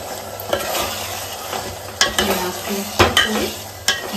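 Mutton curry with meat masala sizzles in a pan while a utensil stirs it, with soft continuous frying and several sharp scrapes and knocks against the pan, close up and with no talking.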